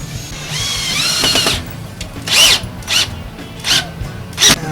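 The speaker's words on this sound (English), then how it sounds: "pre-drill one hinge hole." A power drill pre-drilling a hinge hole for a storm door whirs in a sustained run, then fires in several short, loud bursts separated by brief pauses.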